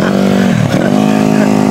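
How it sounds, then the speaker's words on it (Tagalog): A motorcycle engine at a race, close and loud, revving hard with a pitch dip and climb as the throttle is worked, over the noise of the crowd. "Motor mo ba yun, boss?"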